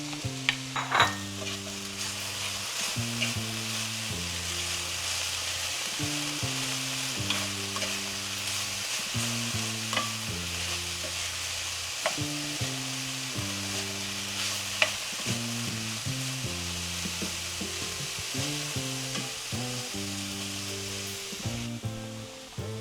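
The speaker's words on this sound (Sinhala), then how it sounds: "මේ තරමට තෙම්පරාදු වුණායින් පස්සේ අපි ඒකට එකතු කරගන්නවා කැරට් ටික." Tempered cabbage and carrots are stir-fried in a pan, with steady sizzling and spatula scrapes under repeating background music and no speech.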